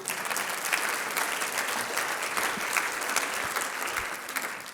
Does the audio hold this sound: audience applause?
yes